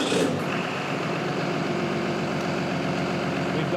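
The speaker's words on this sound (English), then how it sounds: "let's fire up the engine and show you a little bit what we can do" Diesel engine in a teaching bay, already running after a brief start-up burst, settling into a steady, loud, rumbling idle with a continuous low throb throughout.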